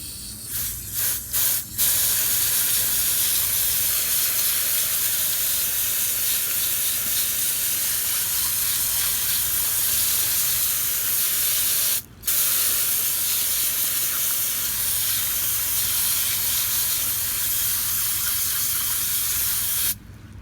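Steady broadband water spray rinses limestone fossils from Goose Creek, a continuous close hiss running nearly twenty seconds with a few brief cutoffs near the start and one short break midway.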